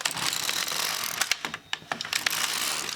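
An LK150 knitting machine knits plain rows of a sock. The carriage makes loud, close mechanical clatter and ratcheting clicks, with a few sharp clacks and a brief pause partway through.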